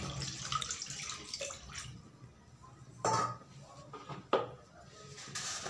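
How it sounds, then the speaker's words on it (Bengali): Water poured into a wok set up for steaming taro, splashing steadily at first, then softer trickles and a few sharper clinks and splashes close by. "একটু জল দিয়ে দিচ্ছি প্রথমে।"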